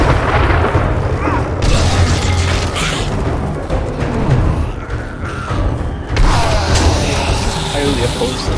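Zombies exploding in the video game 7 Days to Die: dull booms and thuds burst out repeatedly, with sharp onsets near the start and again later, over a dense, loud game soundscape with a voice talking.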